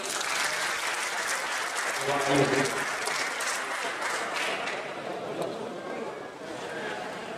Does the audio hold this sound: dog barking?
no